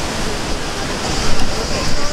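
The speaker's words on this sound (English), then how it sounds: "let me show you the waterfall, because that's the beauty" A waterfall in a national park in Croatia gives off a steady, dense broadband rush of falling water, loud and close with slight surges, and no voices over it.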